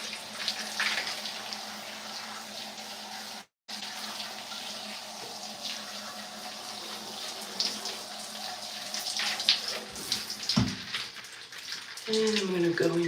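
Tap water runs steadily throughout a hair wash for a curly wash-and-go routine, with a brief cut near the start and a louder splash and shift toward the end.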